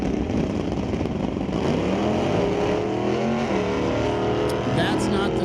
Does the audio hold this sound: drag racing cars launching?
yes